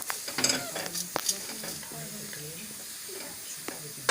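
Katla fish roe fritters frying in oil, with a steady close sizzle and hiss and a few clicks and scrapes from stirring, a voice talking softly over it.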